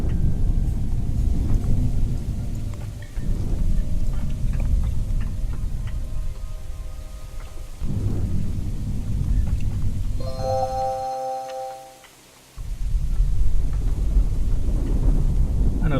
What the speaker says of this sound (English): I've got lightning striking my buildings, which is not something I'm happy with